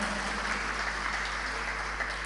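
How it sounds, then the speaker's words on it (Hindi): Applause from an audience at a Jain religious discourse in Delhi, a steady dense wash of clapping sustained throughout without pause. "एक बार इसके लिए जोरदार तालियां बजाइए।"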